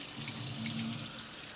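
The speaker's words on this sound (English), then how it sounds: "So now we're just running some warm water over the thread sketch." Warm water runs steadily from a sink tap over a thread sketch on water-soluble stabilizer, a continuous close rushing splash with no talking.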